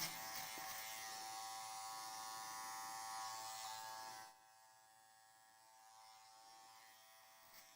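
An electric hair clipper buzzes steadily while trimming around a man's ear. The hum is close and even, then drops to a quieter buzz partway through. No one speaks.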